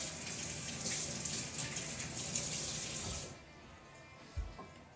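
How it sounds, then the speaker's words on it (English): Water runs steadily from a kitchen tap during handwashing for about three seconds, then cuts off, leaving a quiet room and a brief low thump. "let's just wash my hands here"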